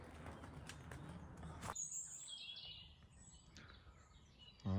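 Birds call at a wetland oasis in Zugliano during a drought, with faint high chirps and tweets over quiet outdoor ambience, far off and soft with no voices.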